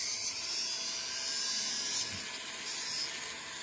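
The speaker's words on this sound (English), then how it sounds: "So we're just polishing this up so it's nice and smooth." A rotary tool polishing a metal bezel shot die makes a steady, close, high-pitched whine with a hissing edge, holding constant over a few seconds with slight swells in loudness.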